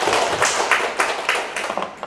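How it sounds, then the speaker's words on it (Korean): A lecture-hall audience gives a short burst of scattered clapping. The claps are sharp and irregular and fade out after about two seconds, with no speech over them. "박수 한번 쳐주시고"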